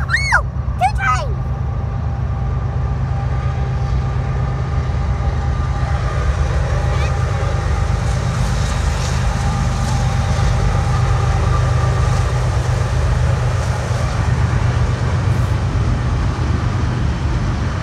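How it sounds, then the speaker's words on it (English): A train rumbles past nearby with a steady low roar and rattling, continuous for the whole stretch, with a brief high squeal and voices at the start. "There goes that train."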